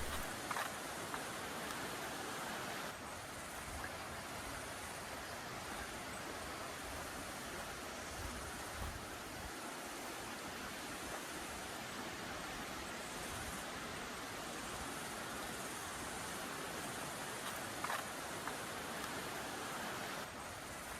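A river flows past a riverside cabin in the mountains of Santa Catarina, Brazil, as a continuous, even hiss of rushing water, moderately distant, with no voices over it.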